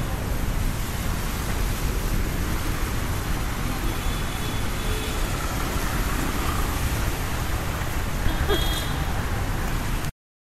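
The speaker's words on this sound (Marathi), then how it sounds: "हवा चालते." Steady roar of wind buffeting the microphone outdoors while riding on a delivery run, a dense continuous rushing noise throughout with faint traffic underneath, then an abrupt cut.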